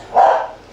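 A single sharp dog bark, close and loud, sounding once and stopping, set off by fireworks going off outside on the Fourth of July.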